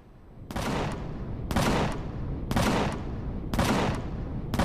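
Gunfire in the space survival game Empyrion - Galactic Survival: five loud, evenly spaced bursts about a second apart, each a sharp crack with a rumbling tail, over a steady low background hum.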